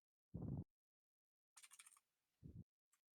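A mechanical keyboard's push-to-talk key gives a few quiet, sharp clicks separated by gaps, with one short rattling burst of clicks in the middle.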